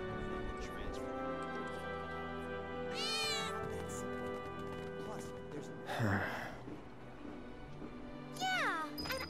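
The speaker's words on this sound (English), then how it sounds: "did you hear that just now? I think one of Betty's cats might be nearby" A cat meows in Final Fantasy VII Remake, several distinct cries spaced across the passage, with game music and a spoken voice running underneath.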